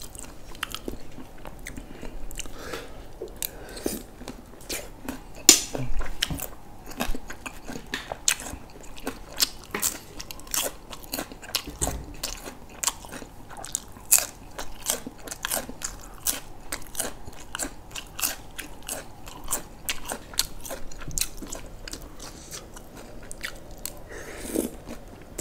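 Close, loud crunching bites and chewing of Thai crispy pork salad with chili-heavy dressing and fermented fish sauce, repeated irregular crackling crunches over a long stretch with soft squishy chewing between.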